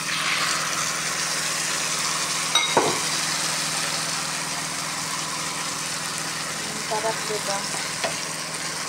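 Octopus and shrimp fry with garlic in a pan, giving a steady loud sizzle with a couple of clinks and stirring taps. A voice speaks briefly over it.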